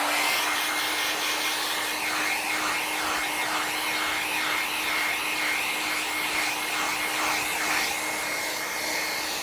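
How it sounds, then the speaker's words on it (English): A hair dryer blows steadily over epoxy resin throughout, a continuous airy whir with a faint high whine and slight wavering, close and fairly loud. "and now I'm using a hair dryer."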